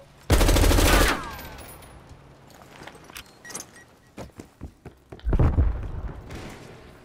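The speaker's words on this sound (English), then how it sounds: "there's a sentry gun in here" Two loud bursts of rapid automatic fire from a sentry gun in Call of Duty: Black Ops Cold War, the first near the start and the second later, separated by scattered clanks and footstep thumps.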